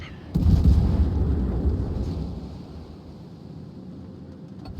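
Naval gunfire in World of Warships, a heavy booming salvo that rolls into a long low rumble and slowly fades, heard alone with no talk.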